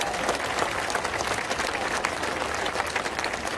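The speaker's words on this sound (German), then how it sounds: "Dein Applaus!" Steady applause from a stadium audience at the 1. FC Köln season opening at RheinEnergieStadion, dense clapping that stays even throughout with a faint crowd murmur underneath.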